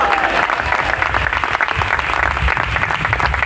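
A worship congregation applauds vigorously in praise, a loud, continuous roar of clapping from many hands with a faint voice audible beneath it.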